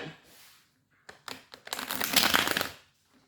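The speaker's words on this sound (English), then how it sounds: "That was not a good shuffle." A deck of tarot or oracle cards shuffled by hand at a reading, a few soft taps followed by a dense riffling burst lasting about a second, close and fairly quiet.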